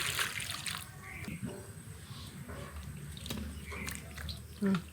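Water poured over torn garlic and ginger in a kitchen while preparing mutton curry with potatoes, a soft continuous splashing and trickling close by, faint and mixed with small handling knocks.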